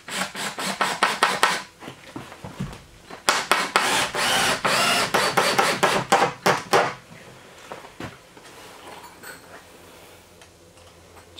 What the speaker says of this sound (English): And I got some 4-inch long drywall screws.